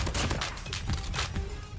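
CBR4 submachine gun firing in the mobile shooter COD Mobile, a rapid run of close, loud shots in quick bursts lasting under two seconds.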